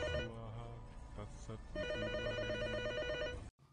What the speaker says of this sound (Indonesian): Tiba-tiba telepon rumah berbunyi tepat di samping Sastri.